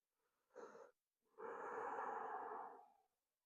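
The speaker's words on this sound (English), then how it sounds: "let's take 3 breaths here" Two breaths during a beginner yoga flow, close and alone: a short inhale, a pause, then a longer, fuller breathy exhale with a slight wheezy edge.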